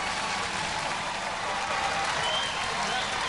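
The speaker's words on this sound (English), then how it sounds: "Generous applause." Robot Wars studio audience applauds steadily, a dense, even wash of clapping hands at moderate level with no break, heard alone.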